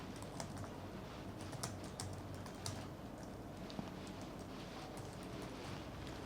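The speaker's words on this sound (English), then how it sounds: "Then I'm going to reply from here." A reply is typed on a computer keyboard in a live chat, giving a quiet, steady patter of key clicks over a low background hum, with no one speaking.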